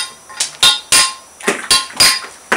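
Hand tools strike metal to remove material, giving about seven sharp metallic impacts at an uneven, deliberate pace. Each blow rings briefly, close and loud, with no talk.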